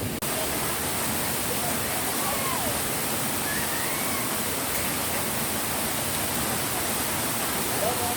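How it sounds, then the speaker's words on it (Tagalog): Steady, dense rush of a tall waterfall at Aurora near Baler, a continuous broadband roar filling the whole stretch without pause, with faint voices barely surfacing beneath the water noise. "Ang taas ng falls."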